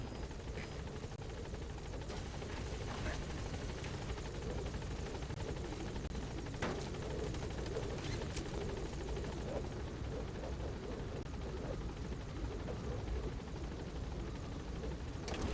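Helicopter in the video game Metal Gear Solid V gaining altitude, its rotor and engine making a steady, dense roar that fills the whole stretch.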